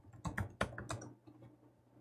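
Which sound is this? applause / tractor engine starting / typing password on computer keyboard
typing password on computer keyboard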